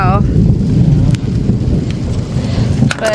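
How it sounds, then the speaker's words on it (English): Rain patters steadily on a modern sailboat fitted with solar panels, a broad continuous wash with a few sharper drip ticks and brief tonal sounds at the start and end. "But it's raining, so I'm going in,"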